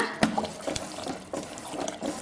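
A short splash and trickle of water poured into a pot of thick broken-wheat bisibele bath mixture, with a few soft clunks and stirring sounds nearby.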